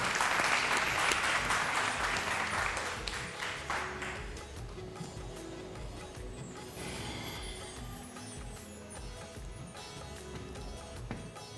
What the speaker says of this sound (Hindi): अली हमजा के लिए तालियां।